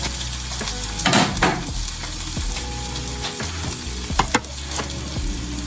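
Salmon fillet sizzling in a hot pan, a continuous close frying crackle with a few louder spatula scrapes and taps against the pan, no talking.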